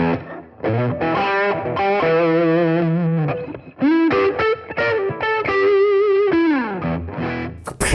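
A Zoom G3Xn multi-effects unit drives an electric guitar into a thick, saturated distortion: loud sustained chords and bent notes ring on for several seconds with no talking.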